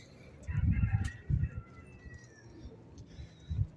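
Pigeons coo in a breeding loft, in low, throaty bursts that come in repeated pulses at close range, with faint chirps in between.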